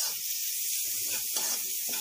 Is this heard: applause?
no